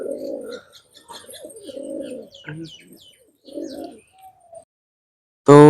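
Domestic pigeons coo in soft repeated low bursts near the listener, with faint chirps between them and a loud sudden burst of noise at the very end.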